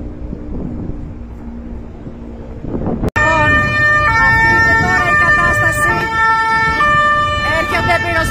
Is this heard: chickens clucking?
no